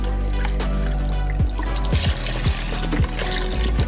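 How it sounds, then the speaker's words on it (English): Organic veggie broth pours into a pot of quinoa chili, a continuous trickling splash with a few soft knocks, heard up close with no voices. "I'm going to add in my veggie broth."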